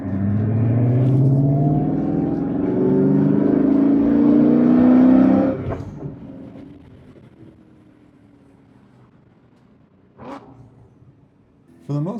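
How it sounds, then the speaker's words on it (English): A BMW E39 M5 with its muffler deleted, loud engine and exhaust revving up close for about five seconds before dropping to a low idle rumble, with a couple of short sharp bursts near the end. "This car sounds like a popcorn maker. It has no muffler."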